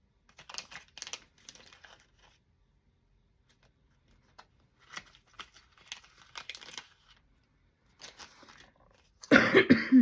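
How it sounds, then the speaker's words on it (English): Several bursts of coughing, close and fairly loud, spaced across the clip with quiet pauses between, ending in a harsher, louder burst. "Excuse me for coughing."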